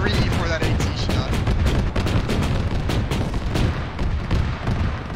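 Heavy sustained gunfire and booming fire in the ShackTac military shooter game, dense overlapping bursts of shots and blasts filling the whole stretch, loud and close.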